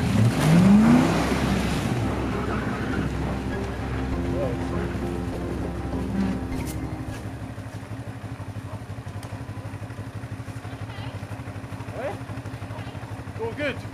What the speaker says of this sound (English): Drive the car as fast as I can out.